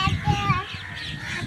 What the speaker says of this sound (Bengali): আর ওই দেখো ওই ওই আকাশে কত পাখি এসেছে, মানে চারপাশে শুধু পাখি পাখি